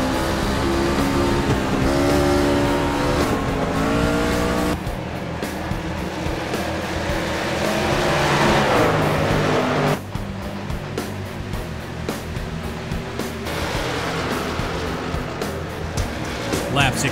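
Race trucks roaring around Rockingham at a green-flag start, a loud continuous engine drone from a pack of vehicles with shifting pitch as they pass, under steady commentary.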